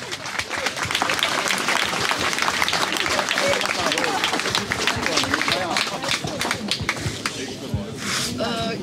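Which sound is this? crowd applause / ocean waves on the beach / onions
crowd applause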